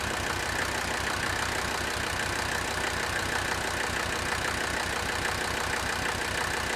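An old car engine idles steadily with a misfire, running smoother than before but still missing. It is a continuous, close, even rumble with a faint uneven pulse, with no talk.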